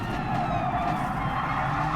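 A police siren wails steadily outside, its rising and falling tone continuous and fairly loud, with traffic rumble beneath it.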